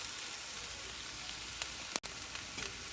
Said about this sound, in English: So let these saute.